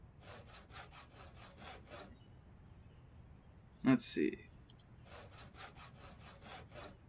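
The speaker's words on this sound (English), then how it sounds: "But we're going to be sawing some logs for a bit." Logs are sawn by hand in the Project Zomboid survival game, with rhythmic back-and-forth strokes in two bursts, separated by a short pause where a voice speaks briefly.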